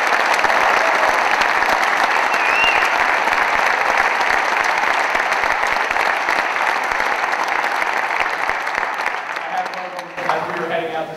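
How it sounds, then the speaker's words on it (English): Audience at a high school symphonic band winter concert bursts into loud, sustained applause, a dense clapping roar that holds steady before thinning and fading near the end. "a round of applause for these 143 awesome students"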